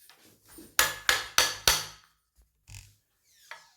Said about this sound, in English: after striking it with the hammer on all sides uniformly, it has started opening